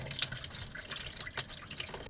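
Hot used engine oil drains from a car into a drain pan, a close, trickling liquid splash with uneven drips and gurgles over about two seconds, with no speech.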